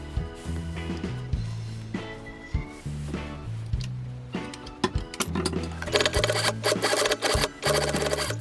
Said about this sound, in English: Attach the bias tape to the edge and stitch along the already finished machine stitching.